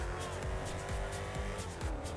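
Tires squeal repeatedly as a car races along in an online roleplay driving game, the engine whining steadily underneath throughout.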